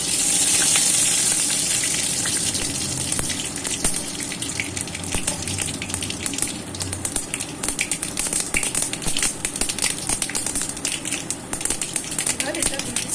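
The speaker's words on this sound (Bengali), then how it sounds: "তেলের মধ্যে দিচ্ছি একটা শুকনো লঙ্কা, আর দিয়ে দেবো একটু সর্ষে ফোড়ন।" Dry red chilli and mustard seeds sizzle in hot mustard oil, a steady close crackle with scattered sharp pops throughout, while a voice talks over it.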